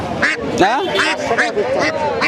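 Domestic ducks quack loudly and repeatedly at a village market, close by, in quick bursts under and between people talking.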